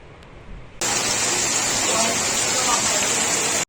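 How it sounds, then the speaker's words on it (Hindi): Steady rain pouring down, a dense continuous hiss that starts abruptly after a quieter opening and holds loud and even to the end, with faint talk underneath at first. "और भी कई अजला में बारिश हो रही है"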